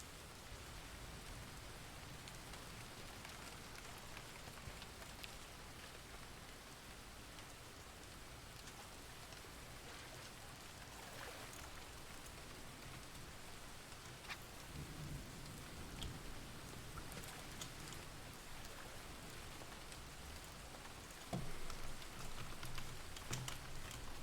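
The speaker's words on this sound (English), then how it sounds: "It doesn't rain that much in this game, does it? Just seems like it's cool when it does." Steady rain falls in a fishing video game set at a pond, a constant broadband hiss with occasional louder drops and faint rumbles, continuous and fairly quiet with no voices.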